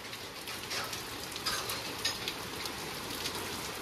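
Heavy rain pours down outside a home during a downpour, a dense, steady hiss with no break and a few brief louder spatters, fairly close and with no voices.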